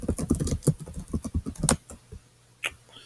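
Someone types on a computer keyboard, a fast close burst of clicking keystrokes that stops, followed by a few isolated taps.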